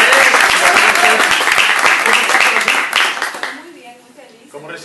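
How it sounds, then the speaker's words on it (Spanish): A television studio audience claps on a morning show, loud dense applause that holds steady and then thins out and fades toward the end. "Feliz 2014 para Santalle y el aplauso para Santalle."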